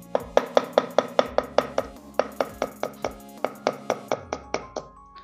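A knife chops finely minced ginger on a cutting board, with about twenty crisp, evenly spaced strikes close up, briefly pausing midway and then resuming.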